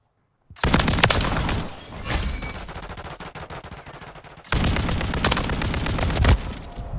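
Rapid automatic gunfire from Call of Duty Modern Warfare III on the Rust map, fired with a light machine gun. Two long sustained bursts of loud close shots are split by a short lull, with no talk.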